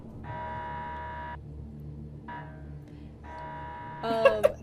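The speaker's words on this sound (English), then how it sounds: "there is a loud alarm that suddenly jolts out around you" Loud electronic alarm sound effect played during a Dungeons & Dragons tabletop stream, sounding in three steady buzzing bursts with short gaps, followed by a brief clatter at the end.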